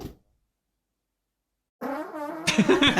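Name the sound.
fart recorded during sleep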